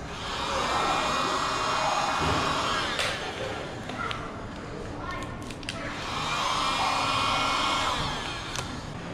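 Heat gun blowing hot air onto the edges of a vinyl wrap on a laptop, a loud continuous whooshing hum that dips briefly in the middle, with a few clicks and handling sounds.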